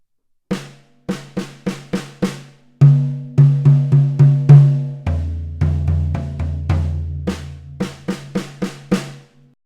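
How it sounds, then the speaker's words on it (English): Close, loud acoustic drums play a 16th-note fill with double-stroke diddles: sharp single hits, then rapid bouncing pairs across the drums with a deeper tom passage, before the crisp strokes return, no voices. "we're going to put a diddle on the E and the and of the 16th note."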